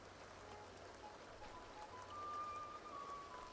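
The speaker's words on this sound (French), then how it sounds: "ils ont fait un effet d'eau qui coule sur les toits" In The Sims 2, a soft, constant trickle of water running down rooftops plays as a faint, steady patter of drops under light background ambience.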